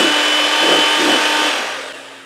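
An electric hand mixer runs on low speed through blueberry muffin batter with vanilla extract and white sugar, a steady close whirring hum that fades out toward the end.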